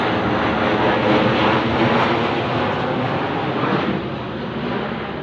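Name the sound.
airplane flying overhead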